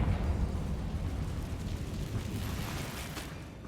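A Confringo fire spell explodes in Hogwarts Legacy, a deep, sustained rumbling blast that stays loud and heavy for several seconds before slowly thinning out, with no voices over it.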